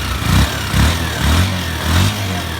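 A Honda TMX 125 Alpha motorcycle with a weak electrical charging fault, engine running close by with four rhythmic rises in revs over a steady idle.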